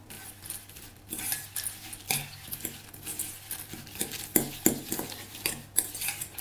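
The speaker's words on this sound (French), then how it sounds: "On va bien enrober les amandes effilées avec le beurre fondu." Sliced almonds stirred into melted butter in a bowl, giving a string of light clicks and scrapes of a utensil against the bowl at close range, with no talking.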